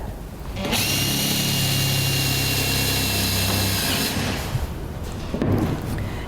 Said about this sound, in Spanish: Y después utilizamos un pequeño chilillo para atravesar el PVC con el taladro.